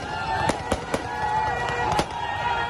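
Rebel soldiers fire guns into the air over a celebrating crowd, several sharp cracks ringing out at irregular intervals over a steady background din with voices.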